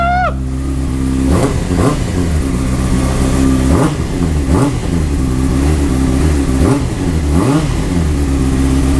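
A Honda CBR 600RR motorcycle engine starts and idles loudly up close, with several sharp throttle blips sending the revs climbing and falling back in repeated bursts.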